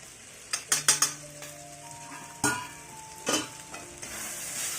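Chili powder and turmeric being stirred into a bombil fish mixture: a few quick clinks of spoon against a pan, with one longer scrape and a later scrape, close up and alone over a faint background hum.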